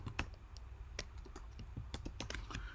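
Keys on a computer keyboard clack in quick, irregular bursts as text is typed into Photoshop, close and quiet with no talking.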